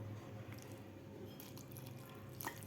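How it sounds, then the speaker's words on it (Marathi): Water poured gently into mung dal batter in a bowl, a quiet continuous trickle with a few small splashes and drips near the end, no talking. "यामध्ये आपल्याला थोडंसं पाणी घालायचं आहे।"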